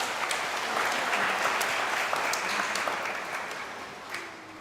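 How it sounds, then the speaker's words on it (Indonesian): Church congregation applauding a choir after a feast-day Mass, dense sustained clapping from many hands that thins and fades near the end, no voices over it. "Kita kasih aplaus untuk kelompok ini."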